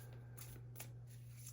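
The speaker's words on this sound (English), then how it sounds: "I'm gonna go ahead and keep shuffling." Tarot cards are shuffled in a few quick, soft riffling bursts over a low background hum, faint and close, with no speech.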